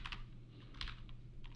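Quiet keystrokes on a computer keyboard during game engine programming come in small clustered bursts, a few quick taps, a pause, then more typing, close and soft with no talk.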